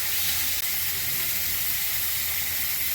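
Sliced onions hit hot oil in a pan with cumin and garam masala, giving a steady, loud, close sizzle and hiss that carries on throughout.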